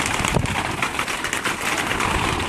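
Breeder pigeons in their coop make a dense, constant rustle with soft cooing and fluttering underneath, heard up close with a steady noisy wash throughout and no speech.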